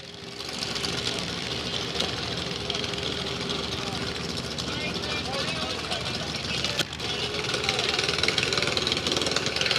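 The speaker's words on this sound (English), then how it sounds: "right now you're getting ready to see some motorcycles go down the track. It's going to get a little loud." Motorcycle engines rev at an agricultural fair track, a loud rough continuous drone with rapid mechanical chatter that holds steady for the whole stretch with no talk over it.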